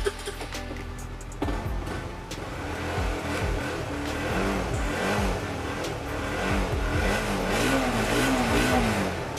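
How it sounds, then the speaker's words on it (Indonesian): A used Honda CBR motorcycle engine starts with a short crank and catch, then idles and revs in repeated rising and falling surges, close and fairly loud. "Untuk kelistrikan dan mesin kita nyalakan."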